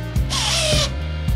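A homeowner battery drill drives a screw into wood, giving a loud, close whine that rises in pitch through the middle and is bracketed by short trigger bursts at the start and end, with no talking.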